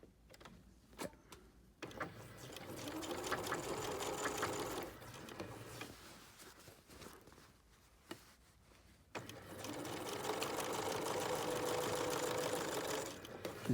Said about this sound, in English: And I'm just sewing at 1/2 inch.